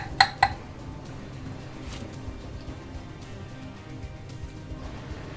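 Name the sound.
stirring venison chili in a crock pot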